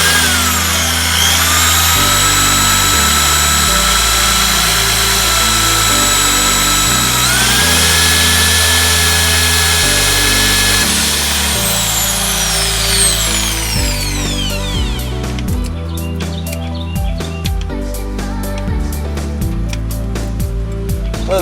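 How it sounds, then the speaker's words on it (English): A power drill boring a hole into a truck's fuel tank for a sump install, a loud close whine that holds and shifts pitch, then spins down into clattering taps and rattles near the end. "getting up under there and drilling out the hole the rest of the way, and then getting the sump installed"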